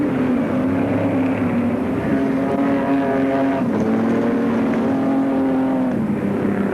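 A Monza saloon car races round the Speedway Park oval during a 1980 meeting, its engine a sustained, fairly distant drone that rises and falls slightly as it passes, with no talk over it.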